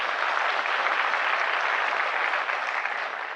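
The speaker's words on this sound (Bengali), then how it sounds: "কুলিন দেশাই নামে একটা হাততালি আমরা দিতেই পারি।" Steady, dense applause for Kulin Desai fills a hall, a large audience clapping evenly throughout and easing slightly toward the end.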